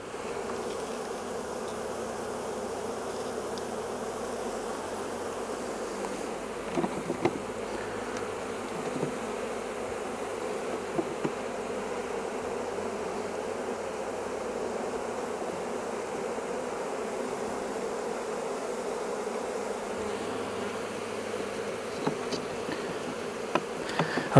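Honeybees drone steadily around an open beehive in an apiary, a dense, continuous buzz close by with a few faint knocks and clicks, and no voices.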